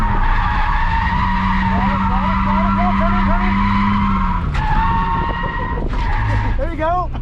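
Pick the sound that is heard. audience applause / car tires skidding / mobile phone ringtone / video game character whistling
car tires skidding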